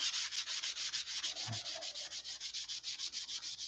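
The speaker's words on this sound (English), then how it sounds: "And block sand it." A sanding block rubs back and forth over a filled seam in steady, even strokes, roughly eight per second, close and fairly quiet with no voices.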